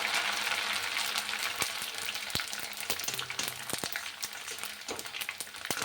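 Leftover cooked rice, dried, puffs up in hot oil as it fries into a crispy snack, giving a dense, steady crackling sizzle scattered with sharp little pops throughout, close and unbroken, with no talking.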